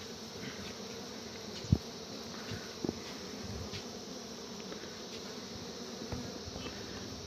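Bees caught in a cap buzz in a faint, steady drone with a few soft knocks, close by and with no one speaking.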